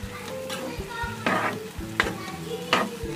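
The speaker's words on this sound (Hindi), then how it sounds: "अब इसमें ऐड कर देंगे भिंडी अच्छे से मिक्स कर लेंगे" Okra being stirred as it fries in a pan, a steady close sizzle broken by several louder scraping stirs of the spoon against the pan.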